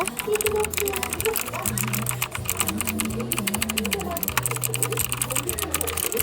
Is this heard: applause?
no